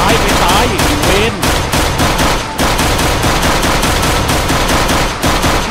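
Rapid pistol fire in a video game, a long run of evenly spaced, loud sharp shots hammering away almost continuously for several seconds, with a short pause partway through and no voices.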